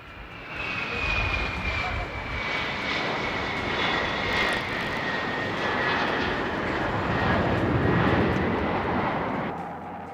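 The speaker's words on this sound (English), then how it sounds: "This particular C-141 Starlifter long-range troop and cargo transport was unusual in Britain" A C-141 Starlifter long-range military transport aircraft at an RAF Fairford air show in 1987 roars steadily and loudly for about ten seconds, its engines producing a continuous broadband rumble with a high whining tone that slowly shifts.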